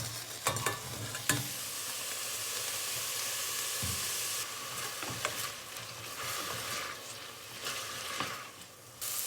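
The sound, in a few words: mushrooms frying in olive oil in a pot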